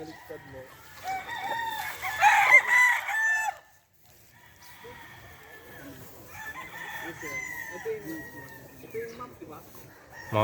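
Roosters crow loudly and repeatedly at a gamefowl farm with Boston-line birds, one long nearby crow followed by quieter clucking and further crowing while someone talks over the birds.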